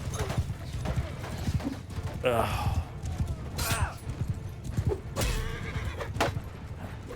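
Horses clip-clop in a running clatter and neigh loudly several times during a Mount & Blade II: Bannerlord battle, close and busy, with a brief grunt from a voice.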